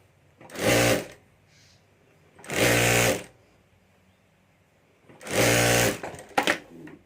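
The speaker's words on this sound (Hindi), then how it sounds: "यह बड़ी पट्टी को भी इसी तरीके से यहाँ ऊपर से एक बार मोड़कर सिलाई कर देनी है" Three short bursts of a sewing machine stitching a folded strip of handbag fabric, each loud and close, whirring for about half a second, with quiet pauses between and a few small clicks at the end.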